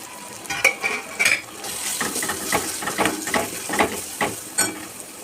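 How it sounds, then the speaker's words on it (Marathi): Ginger, garlic and coriander paste sautés in oil for a vegetable biryani masala: a close sizzle with rhythmic spatula scrapes and clinks against the pot, repeating every half second or so. "हे तेल सुटेपर्यंत परतून घ्यायचं।"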